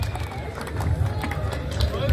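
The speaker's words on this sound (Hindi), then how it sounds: "जोरदार ताली से स्वागत" A village crowd welcomes guests with applause, a busy mix of clapping and murmuring voices, while people talk over it and the noise stays steady.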